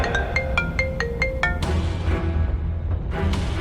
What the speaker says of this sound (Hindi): तभी उसके पास रघुवीर पंडित का फोन आ गया।